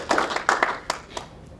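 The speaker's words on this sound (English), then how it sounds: "So please give a round of applause to start." A small audience at a math seminar gives brief, sparse applause, a handful of distinct claps in an uneven rhythm that quickly fade out in a quiet room.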